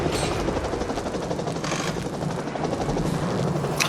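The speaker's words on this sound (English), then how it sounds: "Oh, those are the ones that make the helicopter." Helicopter blade decorations in the park-building video game Planet Coaster give a steady, loud, chopping rotor whir that keeps up without a break and without talk.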